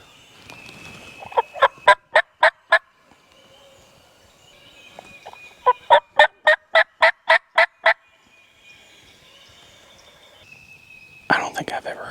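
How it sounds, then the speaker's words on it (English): Wild turkeys gobble in wooded Kentucky public land on opening morning of turkey season, two loud bursts of rapid rattling gobbles a few seconds apart, then another burst near the end, with faint whispering between. "these turkeys are gobbling their heads off."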